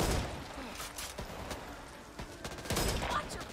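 Gunfire from the video game Back 4 Blood, rapid bursts of shots and sharp cracks in quick succession, with brief speech mixed in.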